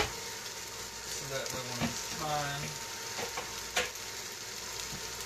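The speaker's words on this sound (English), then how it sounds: "You can already hear it sizzling, starting to reheat back up." Barbecue chicken reheating on a cooker, a steady sizzle and crackle with occasional clinks and scraping of utensils, while a person speaks briefly.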